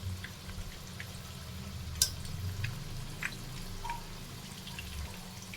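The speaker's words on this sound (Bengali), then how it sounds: "আঁচটা কিন্তু আমি লো টু মিডিয়াম রেখে চিকেন কাটলেটগুলো ভাজছি।" Chicken cutlets frying in oil over low to medium heat, a faint continuous sizzle with scattered small pops and crackles, close by and quiet, no talking.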